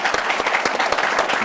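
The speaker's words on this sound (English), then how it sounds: "let's give a round of applause for all of our panelists and our scholars today" Brief burst of audience applause for panelists and scholars at an education event, dense and fairly close, with steady overlapping claps throughout.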